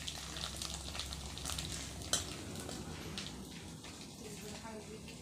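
Fish frying in a pan with coriander, coconut and garlic in a home kitchen, a continuous close sizzle with a sharp clink of a utensil partway through, and people talking over it.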